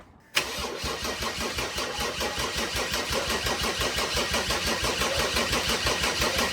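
A Mercedes OM606 diesel engine in a turbocharged drag car cranks over with a fast, steady, loud rhythmic chugging that begins abruptly and keeps pulsing evenly, with no voices.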